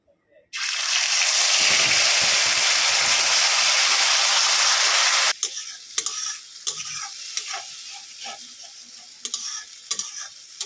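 Onion paste drops into hot oil in a wok and gives a loud, steady sizzle for about five seconds. It then settles into quieter crackling with scattered stirring clicks.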